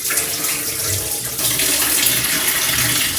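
Rice soaking water pours steadily from a container into a sink, a continuous close splashing rush that swells louder midway.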